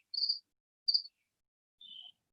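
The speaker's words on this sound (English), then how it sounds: "Do we hear things like maybe a cricket chirping?" A box of feeder crickets at a wildlife facility gives three short, high chirps spaced unevenly across a quiet background, faint and distinct with no voices.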